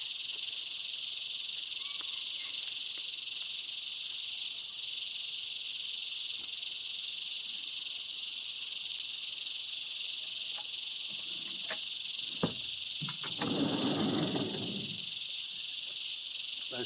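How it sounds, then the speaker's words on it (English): Crickets in Queensland jungle bush keep up a steady, high, piercing creaking chorus, constant and fairly loud, while scattered clicks and a brief rustling burst appear near the end. "Those creaking crickets would drive me mad after 5 minutes."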